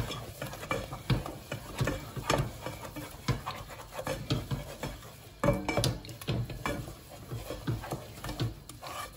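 Churro dough is stirred and pressed in a pan over heat, giving irregular thumps, scrapes and spoon knocks against metal, close and uneven, with no talking.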